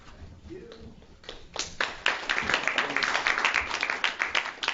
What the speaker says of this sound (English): clapping when I stood up here